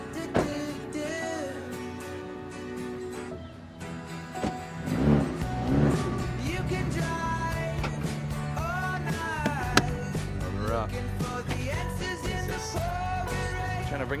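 A Ford Focus RS cruises on a road trip, its engine drone and road noise steady inside the cabin, with some clatter and faint tonal sounds on top, moderately loud and continuous.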